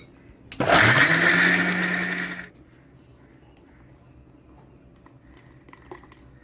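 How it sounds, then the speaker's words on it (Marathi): A kitchen mixer grinder churning chilled cream with cold water to make butter whirs loudly for about two seconds, then cuts off, leaving quiet room tone. "आता मिक्सरमध्ये फिरवते"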